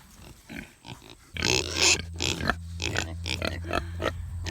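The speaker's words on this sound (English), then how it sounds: "There are 4 Kune Kune pigs on our property." Kune Kune pigs grunting close by outdoors on a farm property, a run of loud, rough grunts and snorts in quick irregular bursts, growing busier after the first second.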